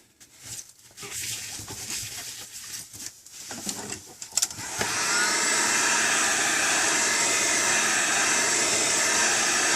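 A heat gun warms the screen of a 7-inch Samsung Galaxy Tab SCH-I800 during a screen replacement, its steady loud blowing hiss starting midway and continuing unbroken after a few seconds of handling noises.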